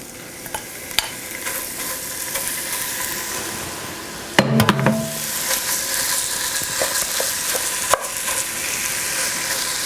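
Ground turkey sizzles and fries in a pan while a utensil stirs and scrapes it, steady close frying hiss with clinks and a louder clatter midway.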